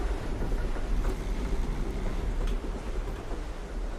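Boat in the video game Dishonored, a steady low engine rumble with broadband wash of water and wind, continuous and moderately loud throughout.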